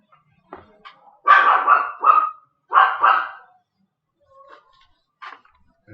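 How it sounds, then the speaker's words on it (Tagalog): A dog barks nearby in sharp, loud bursts: three strong barks in quick succession, then quieter yips spaced out across the rest of the clip with silence between them. "May ingay na. May aso"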